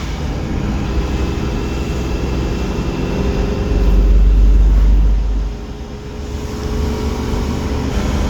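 Chevy Vortec 454 7.4L big-block V8 motorhome RV driving, a steady low engine and road drone heard from inside, swelling louder for a couple of seconds midway before settling back.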